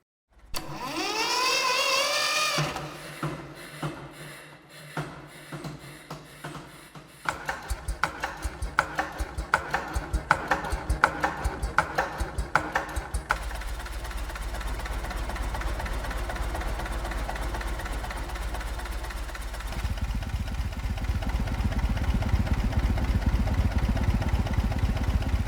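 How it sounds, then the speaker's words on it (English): A sampled ship's engine from a foghorn sound library starts with a rising whine, turns over in rapid mechanical chugs, then settles into a steady low rumbling drone that thickens and grows heavier before the end. "that's the process of the engine starting, turning over, moving,"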